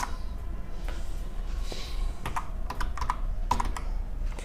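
Code is typed on a computer keyboard during a programming lesson, a steady run of light, close key clicks and taps with small pauses between bursts and no talking.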